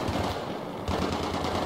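Rapid bursts of automatic gunfire in the video game Battlefield 3, dense and continuous, sounding somewhat distant and muffled.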